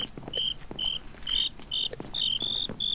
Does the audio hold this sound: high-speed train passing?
no